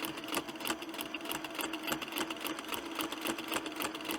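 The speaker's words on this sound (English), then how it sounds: "I'm going to stitch backwards a few stitches. Now I'm going to go ahead and come forward." A sewing machine stitches a fabric placemat, running back a few stitches and then forward, giving a fast, steady mechanical whirring clatter that is close but fairly soft, with no talk over it.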